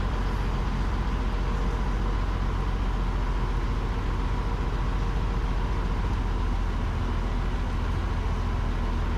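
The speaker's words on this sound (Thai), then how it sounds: "อนนี้เรือเดินทางออกมาแล้วครับ" A steady, loud engine drone with deep rumbling, continuous throughout, from a river ferry departing Pepsi Pier toward Sathorn Pier, running at constant power.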